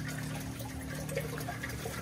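Steady rushing and trickling of water pouring into a Trigger Systems Sapphire CR44 aquarium sump through filter socks, continuous and close, with a low pump hum underneath and no voices.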